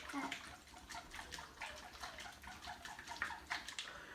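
Water poured from one plastic bottle into another makes a continuous splashing, gurgling trickle with small irregular surges, quiet and close, with no voices over it.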